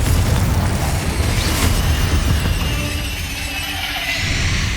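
A Confringo spell explodes in Hogwarts Legacy, a loud, broad boom that rumbles and crackles close by, then fades into a sustained roar of debris, with no talking.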